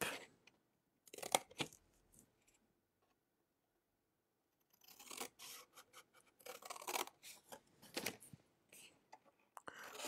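Scissors snip through paper card while a tower card is being made, giving short bursts of crisp cutting and rustling that come in clusters and are separated by quiet pauses, up close and fairly faint.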